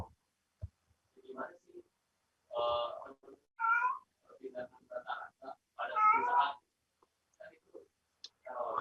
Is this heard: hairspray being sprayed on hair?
no